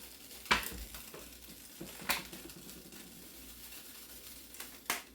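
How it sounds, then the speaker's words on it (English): Soft, steady sizzling of onions in oil in a Dutch oven on a stovetop, with scraping stirs and a few sharp clinks of a utensil against metal, close and fairly quiet. "I'm going to get the Dutch oven back on the stovetop here. It's going to gurgle and sizzle."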